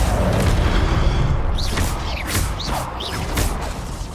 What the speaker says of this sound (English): Accio!